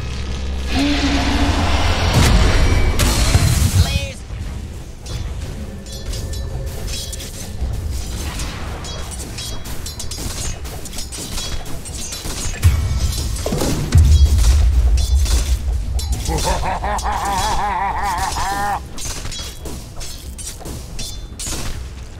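Dota 2 tower under attack, repeated booming crashes and shattering impacts over a dense bed of game battle noise, loud and continuous, with sharper hits scattered throughout.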